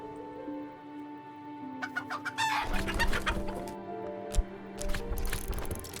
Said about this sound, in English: We can just look at a chicken.